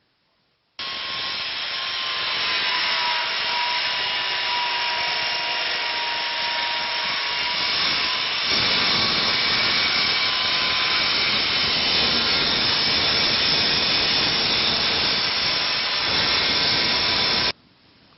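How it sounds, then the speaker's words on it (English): A circular saw cuts through a laminate countertop, a loud, sustained close-up whine and rasp of blade on material that begins abruptly, shifts in tone partway through the cut, then stops, with no talking. "When you cut with a circular saw,"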